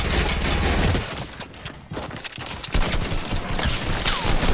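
Gunfire in the battle royale game Fortnite, a loud, dense fusillade of rapid shots that dips briefly and then surges again, with no voices over it.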